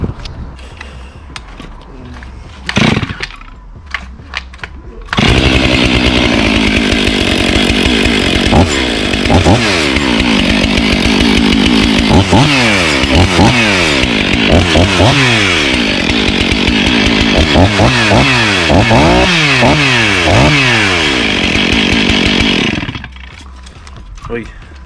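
A Stihl-style 500i chainsaw running on its stock muffler, loud and close, with a few starting pulls and then a long stretch of revving that rises and falls repeatedly before cutting off.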